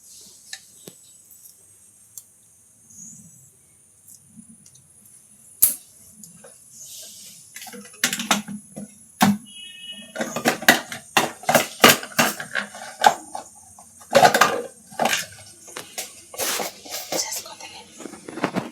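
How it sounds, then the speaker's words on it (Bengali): Green chillies chopped finely with a knife, quiet at first, then a fast irregular run of sharp taps on a board growing denser and louder, close by with no talk. "কাঁচা লঙ্কা একটু মিহি মিহি করে কেটে নিয়ে"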